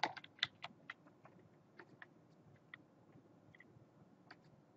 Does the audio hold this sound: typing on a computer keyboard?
yes